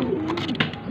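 Pigeons in a coop, let out to come down for grain and water, cooing softly over a steady murmur of birds, with a faint voice briefly in the background.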